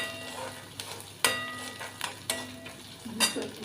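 Garlic and cumin seeds sauté in a pan for a vegetable curry, a light sizzle broken by several sharp, close spatula scrapes and taps against the pan at irregular intervals.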